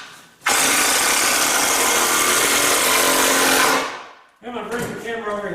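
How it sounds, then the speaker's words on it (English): A power drill whines loudly and steadily for about three seconds while driving a screw into wood for a rolling shop table, then winds down and stops, followed by a short rattling sound. "Put one more screw in."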